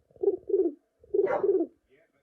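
A voice imitates a West Midlands pigeon, giving two pairs of deep, throaty coos separated by a short pause, close and clear with no other talk.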